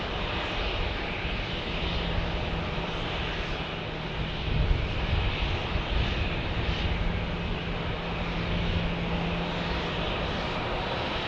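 A Boeing 737 Max 8 jet airliner on runway 7 left at Phoenix Sky Harbor Airport gives off a steady, loud engine roar that swells and eases slightly over several seconds, with no voices.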